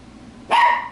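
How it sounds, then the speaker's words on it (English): A dog gives a single short, sharp bark indoors, fairly close and loud, alone with no talk. "That's my dog Justice, if you're hearing barking"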